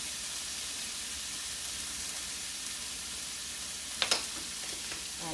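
Ingredients go into a hot pan of corn for a Mexican casserole and sizzle steadily and close, a constant frying hiss with a brief clatter of stirring near the end.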